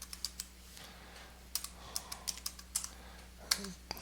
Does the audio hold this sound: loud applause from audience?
no